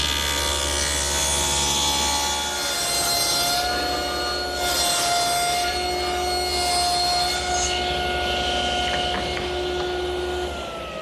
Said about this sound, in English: I'm going to make a rabbet at the top, bottom, and back edge of each end panel.